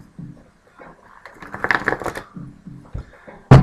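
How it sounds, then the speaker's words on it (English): A deck of tarot-style cards is shuffled by hand at close range, giving a burst of quick riffling flutters that builds and fades, then soft taps and a final sharp thump as the deck is squared. "as I shuffle this deck"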